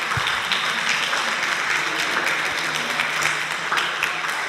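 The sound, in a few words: audience applause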